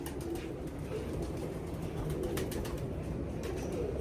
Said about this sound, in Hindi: सिंपल और सादा से कबूतर हैं दोस्तों।